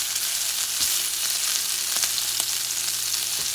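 Jumbo shrimp and pork cook in a pan with a constant, even sizzle, close and steady, a couple of faint clicks of utensils popping out over the bright hiss.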